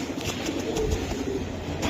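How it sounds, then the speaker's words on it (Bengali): Coos from a Silver Khamar line pigeon, a low soft repeated murmur running steadily through a short stretch among other bird sounds, close and moderately loud. "সিলভার খামার লাইনের কবুতর"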